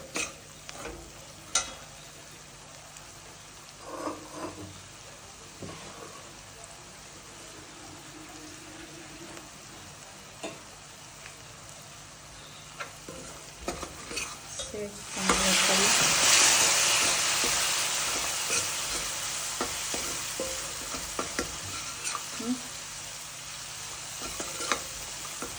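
Red chilli powder mix frying in a pan, first faint and quiet with a few scrapes, then bursting into a loud, broad hiss and sizzle that slowly fades as it keeps frying; a voice speaks in the background early on.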